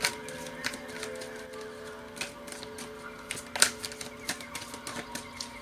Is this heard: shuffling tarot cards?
yes